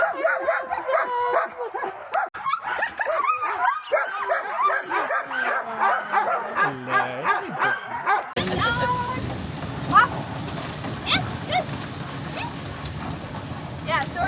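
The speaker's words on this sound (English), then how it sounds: "this is just a time for the dogs to be dogs for a couple minutes" Sled dogs in Skagway, Alaska yip, bark and whimper in an excited, overlapping chorus close by, then the yelps continue fainter under heavy outdoor wind noise and voices.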